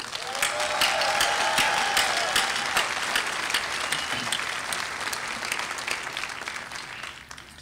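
A university graduation audience fills the hall with sustained, dense applause and cheering that starts loud and slowly tapers over several seconds, with no talking on top.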